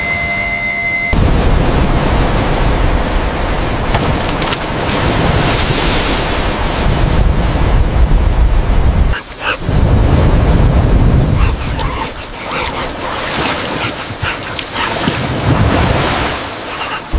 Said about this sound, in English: Another wave, brace yourselves!